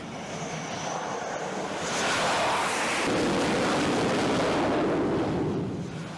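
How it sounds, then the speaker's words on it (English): Jet aircraft landing on an aircraft carrier flight deck, catching an arresting cable with its tailhook: a steady, broad engine roar that swells louder midway and holds, with no voices. "In order to land aboard an aircraft carrier's small flight deck, pilots must come in nose up and catch an arresting cable with their plane's tailhook."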